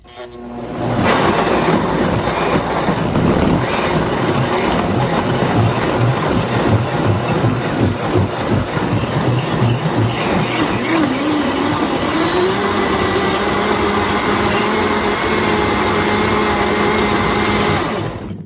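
Loud blender grinding tomatillos and cilantro for chile verde salsa, a steady close roar with rattling chunks early on that smooths into an even whir before cutting off.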